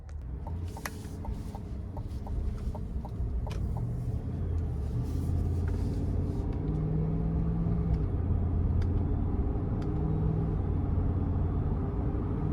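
A 2023 Chevrolet Tahoe Premier with the 5.3 liter V8 driving on the road, a steady low engine rumble and road noise heard from inside the cabin, with a few faint clicks and ticks over it.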